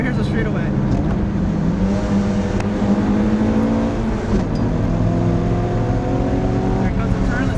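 A 1988 Toyota MR2 engine drones steadily and rises in pitch as it accelerates, loud and continuous throughout, with a voice talking over it.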